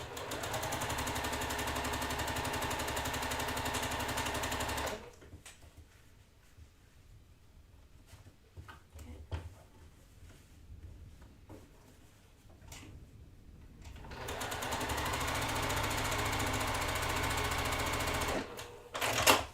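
A quilting sewing machine stitches quilt block seams in a fast, steady mechanical whir that runs loud, drops into a quiet stretch with small clicks and handling noises, then starts up again near the end.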